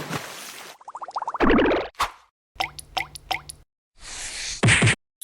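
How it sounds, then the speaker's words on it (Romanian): Cartoon sound effects of liquid dripping onto a face: a run of bright plops and drips, several quick repeated droplet hits and a few louder splashy bursts, separated by silent gaps, loud and close with no talking. "Ce e lichidul ăsta care îmi picură pe față?"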